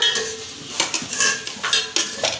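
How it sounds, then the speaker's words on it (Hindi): Dishes, pots and pans clatter and clink during washing, with sharp, close knocks of metal and crockery arriving in irregular bursts and little pause between them. "बर्तन धोएंदी पई है"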